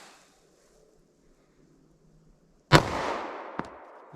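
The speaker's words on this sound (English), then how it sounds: "All right, 38 special gut shot." A single sharp .38 Special gunshot fired from a compact gun with Hornady Critical Defense ammunition into ballistic gel cracks loudly after quiet, then a ringing decay and a brief second knock.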